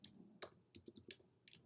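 Keys clack on a computer keyboard while a city name is typed into a campground search, about eight close, crisp keystrokes in uneven bursts with short pauses.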